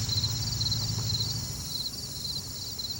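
Crickets chirping outdoors near a weather station, a steady high-pitched trilling that pulses continuously over a low background hum, moderately faint and with no voices.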